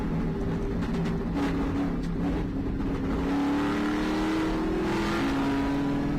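A race car engine runs at Road Atlanta during a World Racing League endurance race, a loud raw roar that rises and falls as the car revs and accelerates through the corners.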